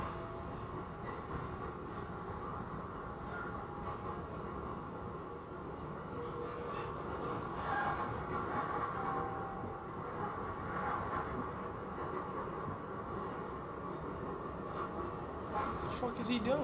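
Inside a train carriage at night, a steady low rumble of rolling wheels and rail noise fills the space, constant and enclosed, with faint creaks and no clear voices.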